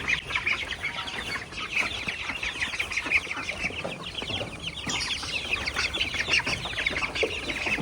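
A flock of chickens and ducks clucks continuously, many birds close by making rapid overlapping calls with no pauses.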